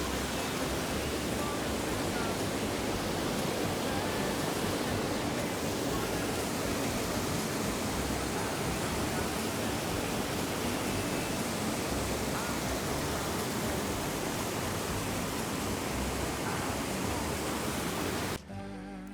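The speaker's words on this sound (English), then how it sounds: "And then, look at that, a little waterfall here." A small waterfall on a trail near bathhouses pours steadily nearby, a loud, unbroken rushing hiss of falling water that holds even for the whole stretch before cutting off abruptly at the end.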